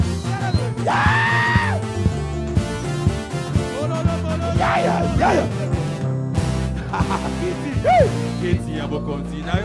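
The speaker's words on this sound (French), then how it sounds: "Des cris de joie." A church congregation shouts and cries out for joy during a lively worship service, loud overlapping yells and high whoops rising above a continuous crowd and music din.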